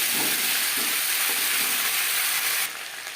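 Maan Kochu (giant taro) and rohu fish curry is stirred in a hot pan, giving a loud, dense, continuous sizzle with soft stirring scrapes, easing slightly toward the end.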